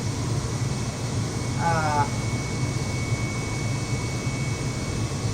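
Steady broadband roar of an Airbus airliner's jet engines at full throttle on the takeoff roll in a flight simulator game, loud and continuous without pause, with a short whistling tone briefly rising over it.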